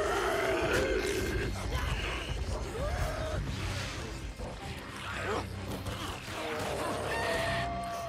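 Deep, rough growls and grunts from a bear in the video game Days Gone, loud and close, mixed with busy game noise and clatter throughout.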